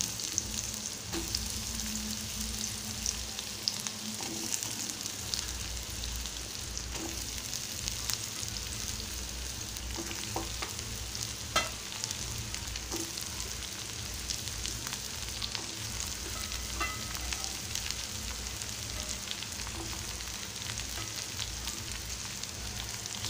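Raw banana pieces frying in oil with chillies, a continuous close sizzle with occasional pops and stirring scrapes, steady and unbroken for the whole stretch with no voices.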